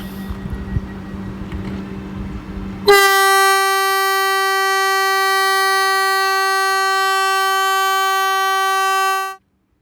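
A sustained, loud harmonic horn from a Vande Bharat train blares alone for several seconds and cuts off abruptly, after a brief buzzing door-closing alarm tone under background noise.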